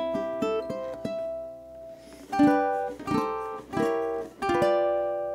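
Ukulele intro to a waltz, chords strummed with simple thumb downstrokes, each strum ringing with bright stacked harmonics in a steady rhythm; played alone and close, quieter at first and fuller later.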